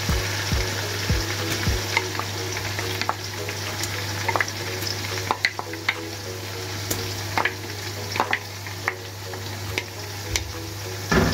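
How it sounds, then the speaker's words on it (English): Onions fry hard in hot oil for Nigerian stew, a dense steady sizzle close up, broken by repeated spoon scrapes and taps against the pot as they are stirred throughout; no voices. "Keep stirring. Now allow the onions to get burned."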